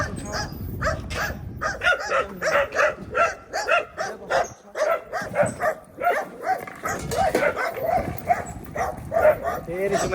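Several village dogs bark and yelp in quick, agitated bursts near a rural irrigation channel and farm track, loud and close, with someone talking at times in between.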